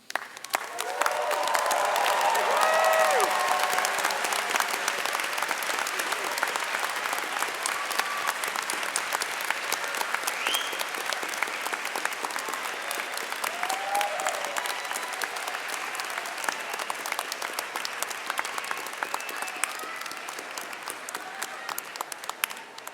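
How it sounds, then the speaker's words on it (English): Sustained, dense applause with scattered cheers fills a large commencement hall at a 2019 Berkeley engineering graduate ceremony, steady and loud throughout with no voices rising above it. "Please stand up and give them an enthusiastic cheer."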